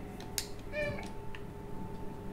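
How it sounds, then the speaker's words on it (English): A cat meows in the video game Stray, one clear mid-pitched meow near the middle with a brief click before it, set against a quiet steady background hum. "I gotta meow. I'll let him know I'm here."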